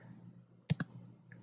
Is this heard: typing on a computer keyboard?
yes